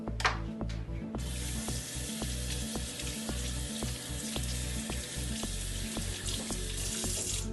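Cold water from a kitchen faucet runs steadily over an onion being peeled, a constant close splashing hiss that continues throughout.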